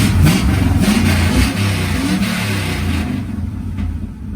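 A car engine revs hard, loud and close, with a throaty mid-range roar that surges and eases over a few seconds in a home garage setting, with no talk.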